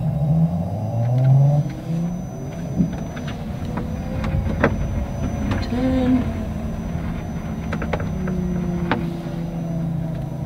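A fast car lifts off the brake and pulls away hard, its engine rumbling and rising in pitch as it accelerates, loud and close, with scattered clicks and shifting tones over the engine.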